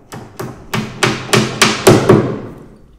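A hammer drives a small nail to secure a piece of shingle. About eight sharp, close taps land at a quickening pace, and each ring fades quickly.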